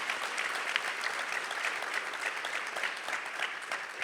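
An audience applauds at a Brazilian panel event, a steady, even wash of many hands clapping together throughout, moderately distant and continuous with no break.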